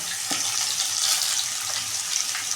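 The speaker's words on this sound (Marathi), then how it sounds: "तर आपण हा मसाला छान असं परतून घ्यायचा ह्याच्यामध्ये आणि तिखट आपण ह्या गरम तेलामध्ये टाकल्यामुळं काय होतं" Masala and red chili powder fry in hot oil for a spiced vegetable dish. A brief, bright sizzle hisses steadily, broken by a few soft stirring knocks, with no speech.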